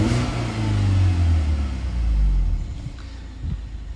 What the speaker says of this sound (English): So the car does run fine.